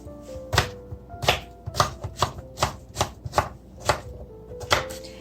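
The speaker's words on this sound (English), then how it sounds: "And just a quick slice." A knife slices through vegetables for a heirloom tomato, bocconcini and hearts of palm salad, about ten crisp, evenly spaced chops on a cutting board, close and clear with no talk.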